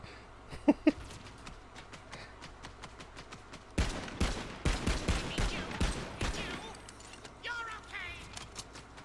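Gunfire in the video game Tiny Tina's Wonderlands, bursts of rapid shots in a dense cluster midway with scattered single shots before and after, fairly quiet, mixed with faint voices.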